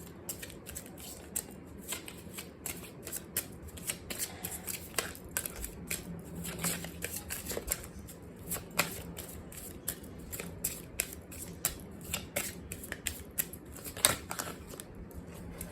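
A deck of romance oracle cards is shuffled by hand in soft, quick riffles and taps that continue unevenly throughout, quiet and close with no talking.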